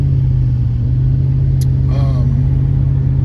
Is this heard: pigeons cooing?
no